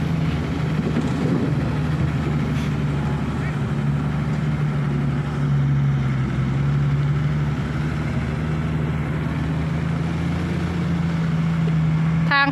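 A truck engine drones steadily under load while climbing a very steep slope, a constant low hum that holds throughout, with a voice talking faintly over it.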